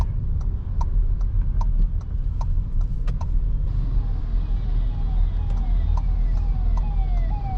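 Ambulance siren wailing through busy city traffic, its rising and falling tones sweeping repeatedly over a steady road rumble and engine noise, with short beeping horn-like blips early on.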